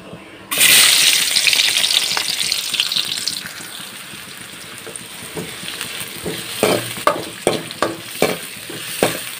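Onion pieces hit hot oil in a pan and set off a loud, bright sizzle, which slowly settles into a softer fry broken by sharp stirring clinks.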